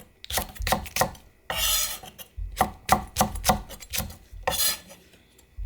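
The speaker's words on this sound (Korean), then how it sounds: "고추도 그냥 어서어서 썰어 넣어주세요." A kitchen knife slices green chili peppers on a cutting board for spicy stir-fried pork, giving quick, close, uneven chopping strokes in short bursts with brief scraping sounds between them.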